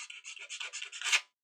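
A sanding stick is rubbed in quick short strokes against a plastic model fuselage part to remove leftover tabs. The rasping is close and quiet, about a dozen passes ending in one stronger stroke.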